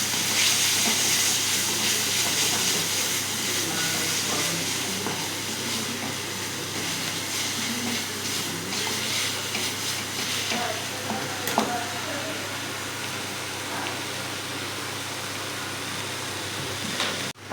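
Masala mixed and fried in a pan produces a dense, steady sizzle and hiss that fills the whole stretch, with faint stirring scrapes underneath and a slight clatter near the end, loud and close.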